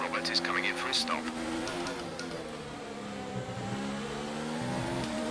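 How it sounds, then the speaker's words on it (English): Several race cars move through the pit lane in the F1 2019 video game at the Russian GP, engines holding steady harmonic tones that rise and shift as the cars pull away, with a soft voice underneath. "lots of cars in the pit lane"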